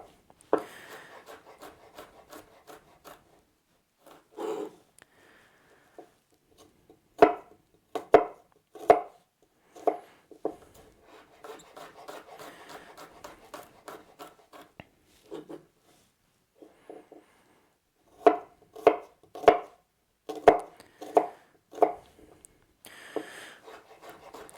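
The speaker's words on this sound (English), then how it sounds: "So the chopped garlic is going in the sauerkraut, in the stir fry," Garlic being chopped with a knife on a cutting board, bursts of quick, crisp taps in uneven clusters separated by pauses, close and fairly quiet.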